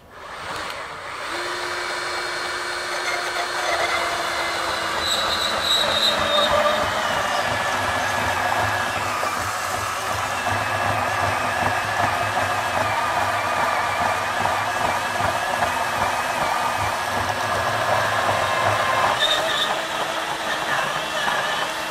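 A Ridgid R8604 18V compact cordless band saw runs against a 2-inch angle at a 45-degree setup, a steady close mechanical whine and hum with shifting tones that holds unbroken for about twenty seconds, no talk.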